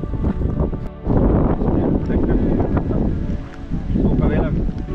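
Strong outdoor wind gusts near boats buffet the microphone in a loud, steady roar with a short lull before rising again.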